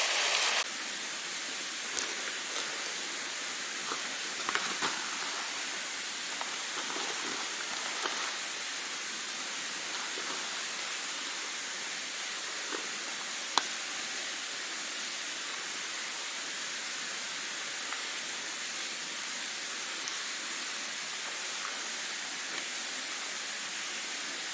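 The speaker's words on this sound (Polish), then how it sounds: "To właśnie jest ten fajny wodospad." A waterfall along the Continental Divide Trail pours in a steady, unbroken broadband rush, constant and fairly close, with no voices over it.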